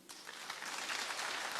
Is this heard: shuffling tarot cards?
no